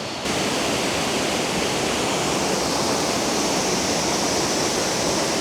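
Water pours steadily down a waterfall stream in Thailand, a loud, constant broadband rush that fills the scene from start to finish with no voices.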